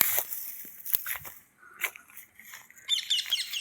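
A pair of parrots takes off near a playing field, giving a few quick wing flaps mixed with scattered sharp chirps against a quiet outdoor background.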